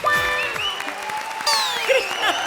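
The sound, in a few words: audience applause on a comedy show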